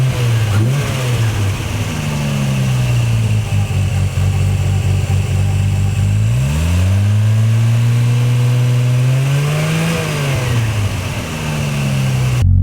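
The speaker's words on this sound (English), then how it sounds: "Let's listen to the exhaust sound now. Aftermarket exhaust, so it should enunciate the natural sound of the 2JZ GTE." A 600 hp JDM Toyota Supra with a 2JZ-GTE engine and an aftermarket exhaust accelerates hard on Yokohama's Wangan line. A loud, continuous engine drone climbs in pitch, drops with gear changes around the middle and again near the end, and no one speaks.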